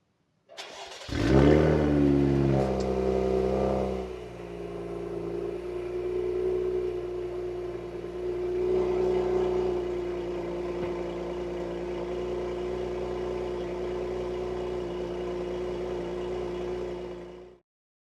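Cadillac CT5-V with a 3.0L twin-turbo V6 fitted with a new 76mm throttle body starts up with a sharp rev, then settles into a steady, smooth idle with a slight swell midway, heard alone.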